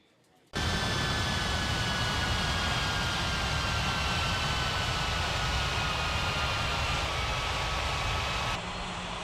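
Airliner approaching to land on runway 36 in an air traffic control video game, a loud, steady jet engine roar with a faint whine that holds evenly throughout, beginning abruptly and stepping slightly quieter near the end.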